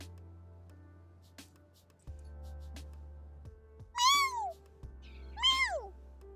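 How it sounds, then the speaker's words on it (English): A cat meows twice, each a clear rising-then-falling call about a second apart, heard close over a quiet room with a few faint clicks and a low hum. "I had to meow at my cat because she was meowing at me"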